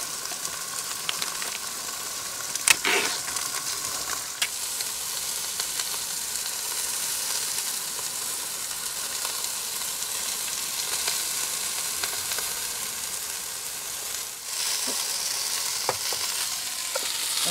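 Burgers frying on a stove at a campsite, a steady close hissing sizzle that runs unbroken, with a few brief clicks and scrapes and no talking.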